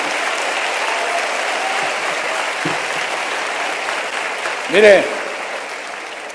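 A church congregation applauding during a sermon, steady broadband clapping filling the whole stretch at even loudness, with a brief voice cutting in near the end.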